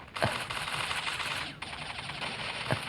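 Rapid automatic gunfire rattles continuously in the shooting game Bullet Angel: Xshot Mission, a dense clattering stream with a few sharper shots standing out.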